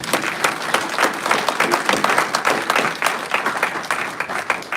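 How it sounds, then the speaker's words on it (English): An audience at a live event on a regenerative technique claps steadily for about five seconds in a dense, even round of applause. "So let's give Jason one more round of applause."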